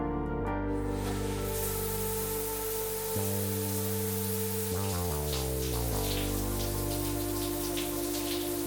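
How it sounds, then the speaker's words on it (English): Steady rain falls outside a medieval castle, a dense continuous patter with scattered drips, heard alongside a sustained low hum and faint tonal music. "the only drawback is right now it's raining"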